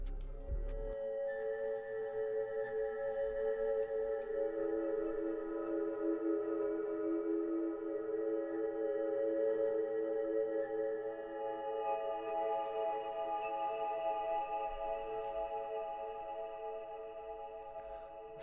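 Eerie Depths, a dark synth pad from a pads-and-strings preset category with reverb and EQ, holds layered sustained tones with a faint sonar-like quality, swelling steadily and fading slowly over about eighteen seconds with no voices.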